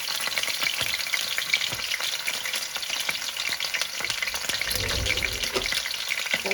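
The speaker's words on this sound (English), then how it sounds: "We're going to sear it. So we're going to take our pieces and we're going to put them down in the oil." Chicken pieces searing in hot olive oil in a pan, a loud continuous sizzle close up with faint scraping and spatter, alone without speech.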